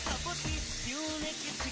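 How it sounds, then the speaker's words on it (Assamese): Pork pieces fry in a pan with a soft, continuous hiss and sizzle, set against faint tonal sounds in the background. "মই এতিয়া গাহৰি মাংসখিনি ধুনীয়াকৈ অলপমান ভাজি ল'লোঁ।"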